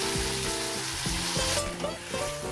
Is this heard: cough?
no